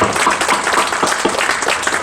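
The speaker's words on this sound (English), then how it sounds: "give a big clap by yourself that we have achieved something" Audience at an international university conference bursts into applause, a dense, steady wash of many hands clapping close by for about two seconds with no break.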